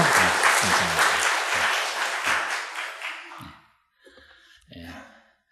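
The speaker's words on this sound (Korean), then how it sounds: "우리 같이 한번 박수해 주시고" A church congregation breaks into warm applause, dense clapping that fades away after about three seconds, followed by quiet murmurs and a voice starting to speak.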